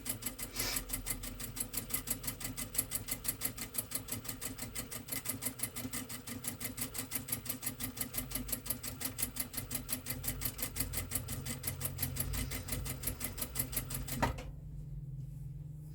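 A sewing machine stitches fabric along a marked line, a fast, even mechanical chatter running steadily for about fourteen seconds before stopping abruptly.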